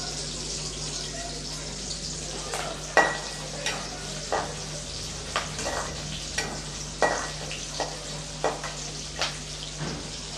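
Onions with curry leaves sautéing in a pan for a fish curry, a soft steady sizzle punctuated by periodic spatula scrapes and taps, with a faint voice in the background.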